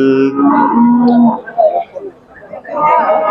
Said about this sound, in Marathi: कपिला खिल्लार खोंड आहे.